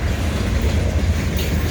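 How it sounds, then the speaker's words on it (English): An NECR freight train passes close by at night, a loud continuous rumble of rolling railcars with a steady low drone and faint clatter from the wheels. "we got a real train tonight"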